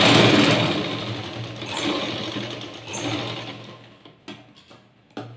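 A sewing machine stitches fabric, whirring steadily at close range and then slowing and trailing off into a few short separate bursts near the end.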